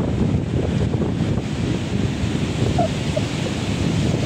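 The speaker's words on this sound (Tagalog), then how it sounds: "Yan ang dagat, super lapit na." Sea waves surging close to a damaged beach resort during a storm, a steady, loud broadband roar of surf with heavy wind buffeting the microphone throughout, no voices.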